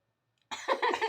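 A single person's cough bursts out after half a second of silence during a playful home sneezing challenge, a rough throaty outburst with a few pulsing follow-up coughs, close and fairly loud.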